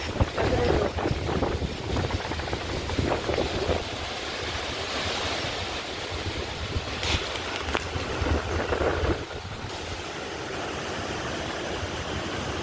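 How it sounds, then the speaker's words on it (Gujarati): A violent windstorm in Banaskantha blows in uneven gusts for over twelve seconds, with deep microphone buffeting and a broad rushing roar that surges, eases, then strengthens again. "તો ગાઈસ જો કેટલો બધો પવન હે."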